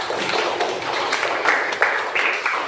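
A classroom gives a student a round of applause, a dense burst of many hands clapping that stays steady for under three seconds, fairly close and moderately loud.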